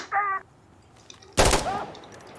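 A short burst of rapid gunfire rings out mid-clip during an Insurgency Sandstorm match, loud and sharp, after a brief voice and before a quieter stretch.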